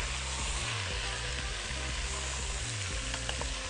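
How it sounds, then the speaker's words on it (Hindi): Loud continuous sizzle of chicken frying in a pan, steady hiss with occasional stirring scrapes. "और हम चिकन को सीधा पहले भूनेंगे"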